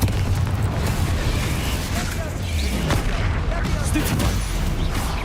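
A Confringo blasting spell in the wizarding game Hogwarts Legacy erupts in dense, loud booming blasts that rumble on continuously amid other game effects.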